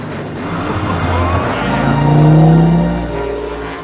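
A race car engine roars through a lap, a continuous close rumble that swells and shifts pitch as it accelerates and passes, loud and without talk.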